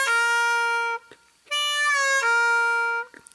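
A harmonica lick played with a 4-draw bend and a 3-draw half-step bend, heard as three sustained, reedy notes. A short gap follows the first note, and the middle note audibly bends in pitch. No voice is present.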